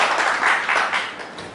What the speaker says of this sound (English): Please thank all the panelist speakers with a round of applause.